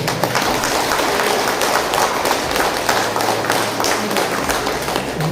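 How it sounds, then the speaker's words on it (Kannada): An audience claps together at the closing ceremony of a Dharmasthala-project alcohol de-addiction camp in Huliyar, a dense, steady wash of applause that stays loud and even throughout. "ಒಂದು ಚಪ್ಪಾಳೆ ಎಲ್ಲರೂ"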